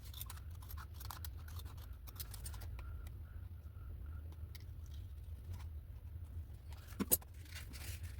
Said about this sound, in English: Let me trim it a little.